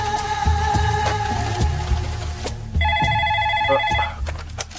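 A telephone rings with a repeating electronic tone pattern, fairly loud and close, with no one speaking.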